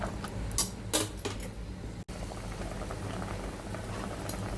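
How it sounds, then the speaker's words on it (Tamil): A pot of hot water boils steadily while cabbage leaves are blanched for boiled and sautéed vegetables, giving continuous bubbling with a few louder sizzling bursts near the start and one brief gap, no talk. "ஸோ இந்த முட்டைக்கோஸ் இலை நம்ம சுடு தண்ணியில் பிளான்ச் பண்ணிக்கலாம்"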